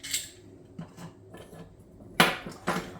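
Small metal rifle parts, the sear spring, sear and bolt, are pulled out during disassembly, giving a few close, sharp metallic clinks and scrapes spaced over a few seconds in a quiet room.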